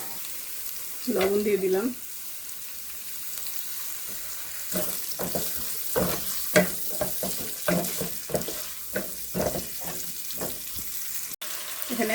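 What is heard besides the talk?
spices frying in hot oil in a pan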